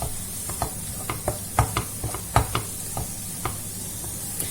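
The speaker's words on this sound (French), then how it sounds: "Et je fais revenir cette farine." Flour fries in melted butter in a pan while it is stirred. A soft, steady sizzle runs underneath, and a spoon scraping the pan adds repeated light knocks at an irregular rhythm.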